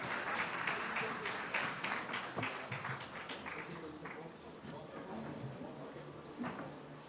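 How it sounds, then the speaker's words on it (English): Audience applause at an AI summit fills the hall, a dense steady clatter of clapping that holds at a loud level throughout, with a few sharper individual claps standing out near the end. "Please, big round of applause,"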